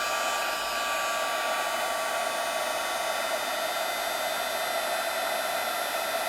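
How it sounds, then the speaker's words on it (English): A hot-air heat tool for embossing blows steadily over embossing powder on a rose and leaf stamped card, a loud, even, close whooshing roar that runs unbroken throughout. "So I'm going to use my heat tool and just grab onto a corner here."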